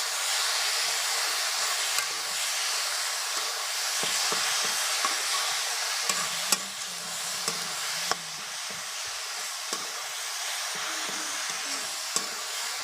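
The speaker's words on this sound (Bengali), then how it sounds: "শাকটাকে দিয়ে দেব। দিয়ে নেড়ে দেব।" Drumstick greens tossed into a pan with browned garlic, a soft continuous sizzle with occasional scrapes and clinks of stirring, close and moderate, without talk.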